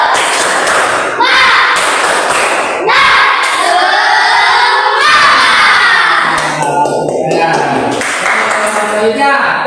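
A classroom of pupils chanting and shouting together in a rhythmic spirit-clap routine, loud and close, with bursts of clapping and excited children's voices.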